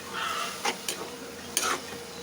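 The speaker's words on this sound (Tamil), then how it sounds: "நல்லா வதங்கட்டும்." Onions and spices sautéing and being stirred in a pan in a home kitchen, a steady soft sizzle broken by a few brief scraping stirs with a utensil, close and alone.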